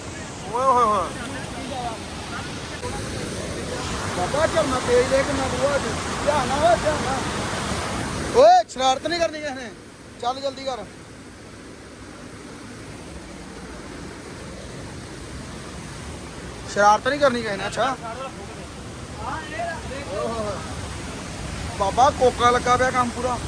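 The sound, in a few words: Bhagsu Nag waterfall, McLeod Ganj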